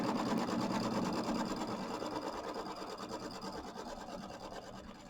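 Embroidery machine stitching a tack-down line on quilt fabric over batting, a fast continuous mechanical whirring hum with rapid needle rhythm, close and steady throughout, no speech.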